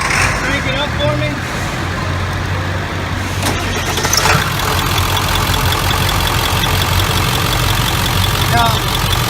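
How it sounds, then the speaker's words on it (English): A car engine starts up and settles into a steady idle during an alternator test, the cranking and catch heard early followed by a continuous loud rumble that holds to the end. "we're actually going to go ahead and get the engine turned on"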